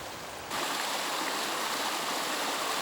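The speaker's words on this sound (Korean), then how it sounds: "99골짜기마다 물줄기가 흘러내리고" Spring meltwater from a mountain stream rushes down a valley of Chilgapsan in South Chungcheong, a steady, close, full-bodied roar of flowing water that swells in after a brief quieter moment, with no voices.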